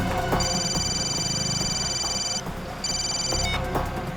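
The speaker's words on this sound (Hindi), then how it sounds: "अभिजीत को फोन करता हूँ।" A telephone call goes out with a ringing tone in two long pulses, heard loudly over a busy background of music and noise.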